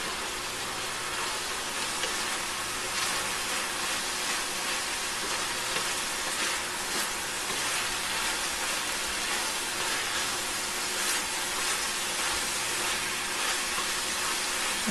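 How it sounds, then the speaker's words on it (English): Bulgogi with green onion frying in a pan, a steady close sizzle and hiss that runs evenly throughout without pause. "put green onion and fry more"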